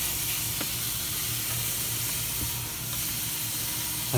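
Small pieces of lean back bacon with onions sizzle in a pan on a van stove, a steady soft hiss with occasional faint crackles and a brief clunk at the end.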